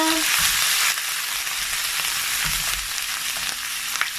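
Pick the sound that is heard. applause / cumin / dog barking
cumin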